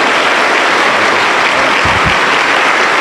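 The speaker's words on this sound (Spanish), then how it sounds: "Aplauso para el Señor Jesús." Congregation applause at a Pentecostal church service, a dense, steady wash of many hands clapping loudly and continuously, with no speech.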